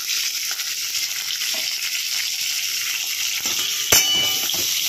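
Spices with turmeric fry in a pan for a thin curry of bata fish with vegetables, giving a loud, steady sizzle throughout, with a brief clink of utensil against pan near the end.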